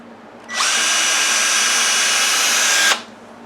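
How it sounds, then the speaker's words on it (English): A power sander working on a model starts abruptly, holds a loud steady high whine for about two and a half seconds, then cuts off sharply. It is close and alone, with no talk. "I have not yet begun to sand."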